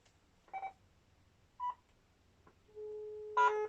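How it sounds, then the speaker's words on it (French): Landline telephone plugged straight into the wall line after the modem cable is unplugged, giving a steady dial tone that starts partway in after a few short keypad beeps, near and clear with no voices. "Et pourtant là je récupère bien une tonalité"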